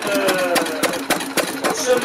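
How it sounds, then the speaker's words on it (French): A 1916 Stover 3 hp petrol engine from the United States runs at 450 rpm at an outdoor threshing festival. It gives a steady chugging with regular sharp beats about every quarter second, loud and close, over crowd murmur. "ce moteur, il a été fabriqué aux États-Unis par Stover Manufacturing"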